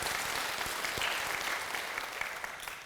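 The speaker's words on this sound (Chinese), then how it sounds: "給他們鼓掌一下哈" Audience clapping at a Seth lecture with Dr. Hsu Tien-Sheng honoring branch directors, a dense steady applause filling the room throughout with no voices over it.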